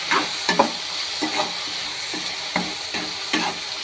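Tomatoes sautéing with salt in a pan for a coriander-mint chutney, a steady close sizzle broken by several scraping stirs of a spoon against the pan at irregular intervals.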